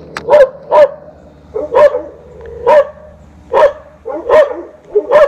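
Dogs bark repeatedly in short doubled bursts, fairly close and loud, with brief pauses between each volley, by the Tennessee River in Knoxville.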